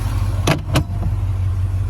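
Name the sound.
car exhaust at idle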